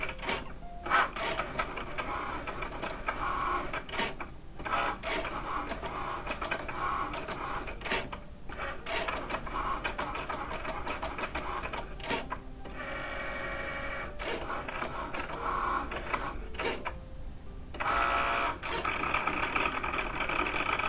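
Cricut cutting machine slicing through printed paper, a steady mechanical whir with repeated short pauses and shifts as the blade carriage moves back and forth, continuous and fairly close.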